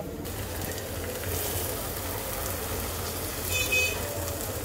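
Blended spice paste for a Bengali pui shak paturi sizzles steadily in a hot pan, a continuous close frying hiss with faint stirring, no voices.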